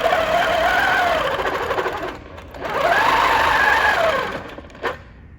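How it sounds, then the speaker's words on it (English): A sewing machine stitches a quilt guided by a ruler. Two close, loud runs of rapid whirring stitching rise and fall in speed, separated by a short pause, then a brief final burst. "And now I'm gonna stitch this."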